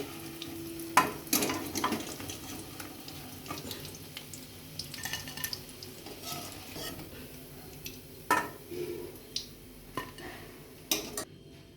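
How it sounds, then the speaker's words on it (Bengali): Sago pakoras frying in hot oil with a soft, steady sizzle, broken by sharp clinks and scrapes of a metal spoon against the pan and bowl as the fritters are lifted out, close by and without talk. "পকোড়াগুলো হয়ে গেছে এবার আমি তুলে নিচ্ছি"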